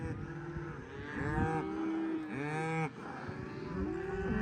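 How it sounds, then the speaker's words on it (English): Cattle on a farm moo repeatedly while being herded down a road, several long, drawn-out calls overlapping at moderate distance over a faint background rumble. "I had one cow that wasn't really the smartest and decided to come down this way a little bit."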